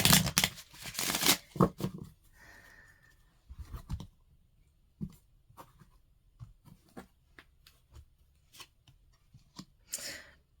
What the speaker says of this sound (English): one more shuffle, cut the deck